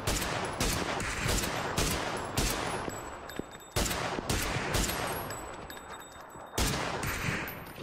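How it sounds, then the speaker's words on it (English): Gunfire in PUBG, loud close shots and rapid automatic bursts cracking in irregular clusters, with ringing tails and brief lulls between volleys. "Getting shot from northeast."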